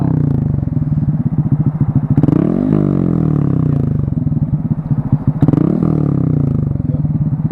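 A motorcycle engine revs hard and loud nearby with a rough, pulsing drone, climbing in pitch twice with a brief drop between runs as it accelerates in third gear.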